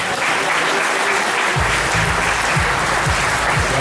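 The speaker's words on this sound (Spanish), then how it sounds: "Para todos ellos, un fuerte aplauso." A dense crowd applauds Olympic champions at a sports club tribute in San Fernando, a steady roar of clapping joined midway by a low, rhythmic drum-like thump.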